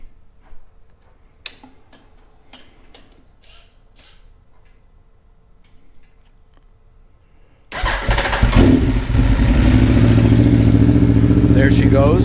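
An Aprilia Tuono motorcycle engine starts after a stretch of quiet ambient sound, catching abruptly and settling into a loud, steady, rumbling idle close by.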